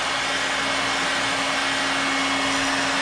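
Heat gun blowing steadily to heat-set black primer on painted fishing lures, a continuous loud airy whoosh with a fixed motor hum running unbroken throughout.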